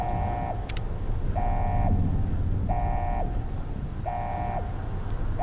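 Repeated electronic beeping in Fallout: New Vegas's Sierra Madre DLC, four evenly spaced tones, each about half a second long, over a constant low rumbling ambience.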